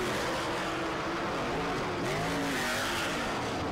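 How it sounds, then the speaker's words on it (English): USAC sprint cars roaring around the Terre Haute dirt track during hot laps, a dense, continuous engine howl with rising and falling pitch sweeps as cars power down the back straight. "as you watch the 2B car head down the back chute"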